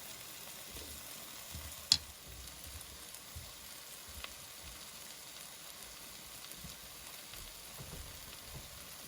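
Beef short rib bolognese browns and sticks in a pan with a faint, steady sizzle, broken by one sharp clink near the start; no one speaks.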